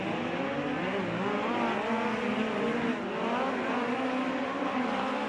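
USAC midget race cars roar around the Red Dirt Raceway dirt track, engines rising and falling as they rev through a lap, loud and continuous with no pause and no talk over them.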